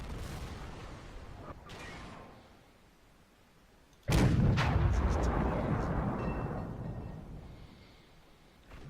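A KV-85 tank gun fires in World of Tanks, a single heavy boom midway that rolls off into a long rumbling decay, following a quieter stretch of engine noise.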